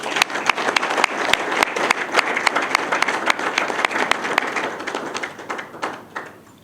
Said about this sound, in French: Je pensais que vous alliez applaudir.